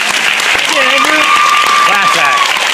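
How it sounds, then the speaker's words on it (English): An audience claps steadily through a school band farewell concert, with voices calling and talking over the applause throughout. "Give them a round of applause."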